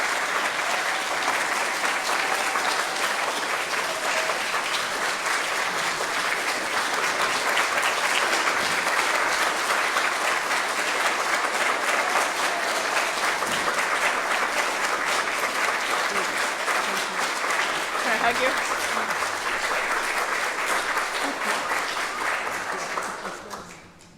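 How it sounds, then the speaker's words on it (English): A church congregation at a Sunday service breaks into sustained applause, a dense, even wash of many hands clapping that holds loud and steady for over twenty seconds before fading out at the end. "Please, everyone, give her a round of applause."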